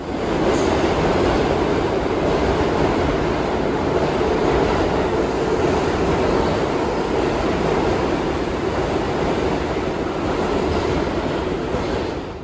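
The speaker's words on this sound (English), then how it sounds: "we've made it to 103rd Street on the 1 train" A New York 1 train subway car rumbles along near 103rd Street, a loud, steady roar of wheels and rails that holds constant for the whole stretch with no voices.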